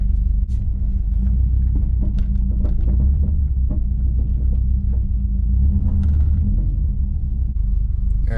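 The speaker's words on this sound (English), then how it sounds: "That noise that I heard was just my center diff." A loud, steady low rumble from a 2002 Subaru WRX driving, with a continuous drone and occasional knocks from the center differential.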